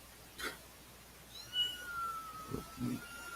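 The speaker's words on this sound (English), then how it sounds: "So there's your cat" A pet cat meowing in a home setting: a short, faint, high meow and a longer thin drawn-out mew, with soft low thumps, quiet and somewhat distant, with no talk.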